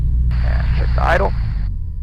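A light aircraft engine idles during a pre-flight run-up check, holding a steady low drone throughout while a voice briefly speaks over the intercom.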